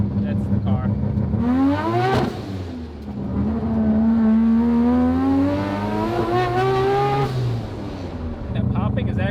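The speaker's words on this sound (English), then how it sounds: "That popping is actually traction control kicking in, knowing the rear tires are braking" Rotary turbo car engine at the track rising and falling in pitch as it revs, with popping from traction control, loud and close, while people talk over it.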